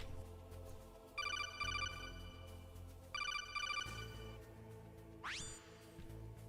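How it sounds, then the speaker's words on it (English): A phone rings in the Metal Gear Solid video game: two trilling electronic bursts a couple of seconds apart, then a quick rising tone, all faint over a low hum. "And we get a phone call."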